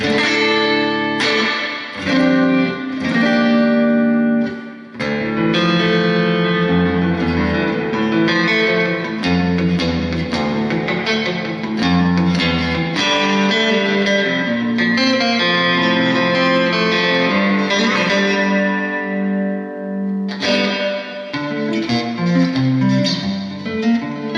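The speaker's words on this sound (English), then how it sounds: "This is the single coil job in the neck position." An electric guitar with a scalloped fingerboard, Sophia tremolo and Fleor single-coil neck pickup is played through an amp with effects, giving loud, sustained melodic runs and chords with short pauses and no speech.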